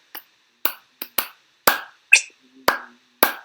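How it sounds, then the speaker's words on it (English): Hands clapping out the rhythm of a song, eight sharp, close claps in an uneven, tune-like pattern with pauses between groups, alone with no talking. "Think of a tune, think of any song, and go to clap it out."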